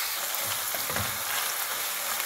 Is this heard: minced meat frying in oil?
yes